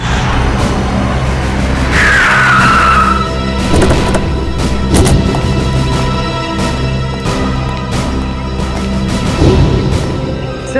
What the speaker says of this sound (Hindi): उनकी गाड़ी का बैलेंस बिगड़ा, स्टीयरिंग पर से कंट्रोल छूटा और गाड़ी इस दीवार से आके टकरा